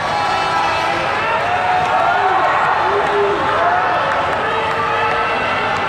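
Crowd at a futsal final between Thai and Iranian U-18 student national teams, a dense continuous roar of cheering and jeering voices throughout, loud and steady with whistle-like shouts rising over it.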